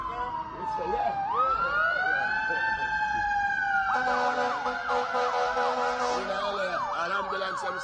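An ambulance siren wails nearby, a loud rising and falling tone that switches to a faster yelping pattern midway, sounding continuously with traffic noise underneath.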